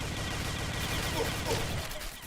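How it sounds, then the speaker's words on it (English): Video game gunfire during a competitive esports tournament match: dense, continuous bursts of rapid shots with muffled voices underneath. "gunfire there, but another point for Reaper"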